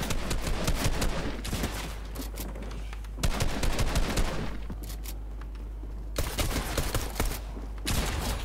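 Shotgun blasts in Fortnite boom in sharp, heavy bursts, several clustered volleys separated by brief pauses, loud and close with no talk over them.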